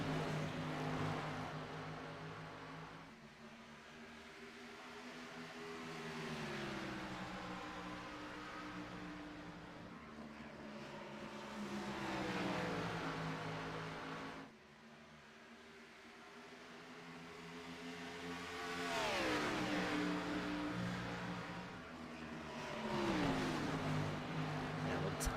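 Simulated stock cars roar around Dover's oval in an Xfinity Series racing game, a continuous loud engine drone with harmonic pitches sweeping up and down as cars accelerate and pass, steady throughout with no talk.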